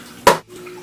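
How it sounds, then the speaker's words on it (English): Warm water poured over soaking bean noodles in a bowl, a single short splashy gush lasting a fraction of a second, close and fairly loud, then quiet. "we're going to add enough water, more warm water, to make sure they get submersed"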